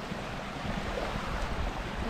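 Low, steady wash of sea waves at a white-sand beach in Talisay, Quezon, heard at moderate distance with some wind rumble and no voices.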